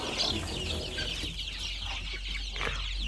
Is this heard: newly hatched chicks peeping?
yes